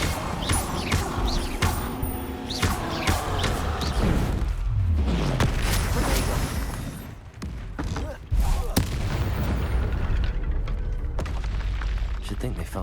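Dense, loud spell blasts from Hogwarts Legacy combat, with repeated explosive booms and crackling impacts overlapping continuously and one deep descending whoosh midway, over steady battle noise.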